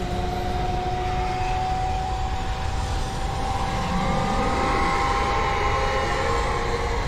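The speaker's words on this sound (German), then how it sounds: "wie lange braucht der Hubschrauber, um zu starten" A helicopter starting up in the video game Alan Wake: a steady, loud mechanical drone with a sustained whining tone. It holds constant for several seconds with no talking.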